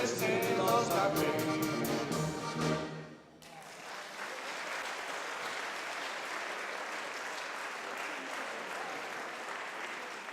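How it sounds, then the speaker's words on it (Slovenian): A live audience at a tourist society's 65th-anniversary celebration in Nova Gorica breaks into steady, sustained applause after a burst of music. The clapping carries on evenly at moderate loudness, with no voices over it. "Še en aplavz, prosim."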